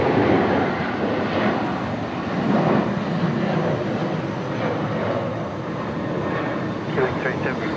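A Velocity airliner takes off at Brisbane Airport with a steady, broad jet roar. The roar swells slightly, then holds for several seconds at a middle distance, and a voice talks over it.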